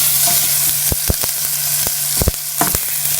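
Food frying loudly in a pan and being stirred, a dense close sizzle under a low steady hum, punctuated by several sharp knocks of the utensil against the pan, no talking.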